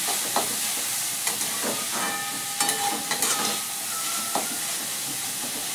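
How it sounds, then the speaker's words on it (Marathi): Radish-leaf greens being stirred in a pan, with faint scraping taps against a steady sizzling hiss of frying over low heat. "एक 2-3 मिनटं झाली की आपण अशी भाजी हलवून घेत राहायची."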